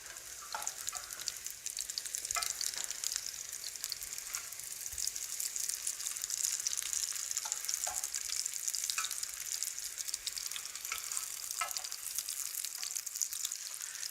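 Vegetable patties fry in a pan with a continuous, fairly quiet hiss and fine crackle, dotted with small pops, steady for the whole stretch with no voices.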